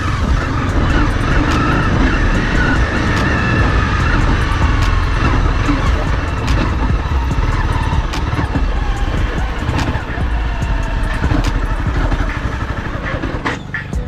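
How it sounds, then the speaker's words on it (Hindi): A Honda CBR250R BS3 motorcycle engine runs loudly and steadily at close range, sputtering as it stalls after its fuel runs out, with traffic and road noise around it. "ये देखिए दोबारा बाइक ऑन करी हल्की सी, फिर दोबारा चलती है और गाइस पुल पे जाके बिल्कुल ही बंद हो जाती है।"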